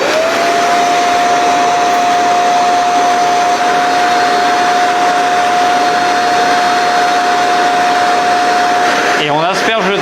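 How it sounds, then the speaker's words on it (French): A DustGo carpet shampooer runs with a loud, steady motor roar and a constant high whine. The sound cuts off abruptly near the end. "Maintenant on démarre et je vous montre comment on utilise le Does Go en propulsant l'eau avec la gâchette."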